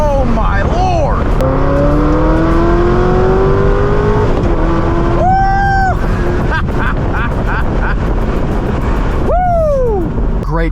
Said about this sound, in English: Cruising in the ZR1